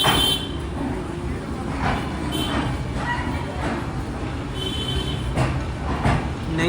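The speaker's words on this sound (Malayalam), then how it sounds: "ന്യൂഡൽഹിയിലേക്ക് ഇതാ ട്രെയിൻ എത്തുകയാണ്." The Navyug Express pulls into platform 6 at New Delhi. It makes a low, steady rumble with faint clacks and rattles from the carriages, and a voice talks over it amid busy platform noise.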